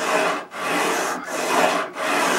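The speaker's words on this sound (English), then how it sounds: "It's got some 60 grit sandpaper on a drill bit. Now we're just gonna do a lot of this." A drill fitted with 60 grit sandpaper sands a wooden flintlock stock in loud, close, raspy strokes. The scraping surges in three long passes with brief pauses between them, and nobody speaks.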